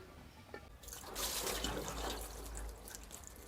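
Water is poured into the engine of a squarebody truck, starting with a faint drip and then rushing and splashing steadily up close for a few seconds with no talking.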